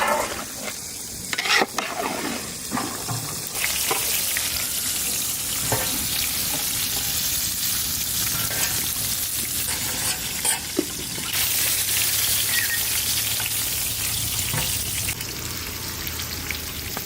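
Ginger and garlic paste sizzles and crackles steadily in hot oil, with intermittent stirring scrapes over a continuous fry that fills the whole stretch with no talk.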